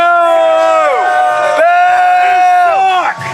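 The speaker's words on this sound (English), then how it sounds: "Crowd showing their displeasure." A wrestling show crowd boos loudly in long, drawn-out waves, several sustained jeers overlapping and falling off, then swelling again near the end.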